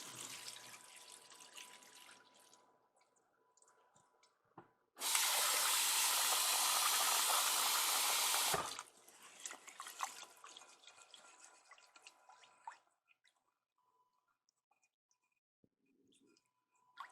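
Rice rinse water pours from a bowl through a sieve in a loud, steady gush lasting a few seconds, framed by softer drips and kitchen handling sounds.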